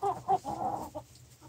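Chickens and a rooster in a henhouse, producing a quick run of close, fairly loud clucks and throaty calls without any voices over them.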